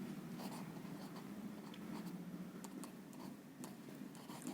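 Pen or pencil writing by hand on paper while working a maths probability problem, steady scratchy strokes with small taps, close and fairly faint, no talking.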